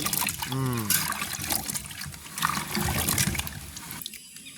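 Cassava tubers being washed by hand in water, with splashing, sloshing and trickling throughout at close range, mixed with someone talking and rural background noise.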